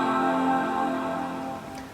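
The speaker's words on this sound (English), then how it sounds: "the boot chime itself is a slightly lower pitch" A newer, lower-pitched Intel Mac startup chime: a sustained, resonant chord rings out steadily and fades slightly toward the end, with no talking.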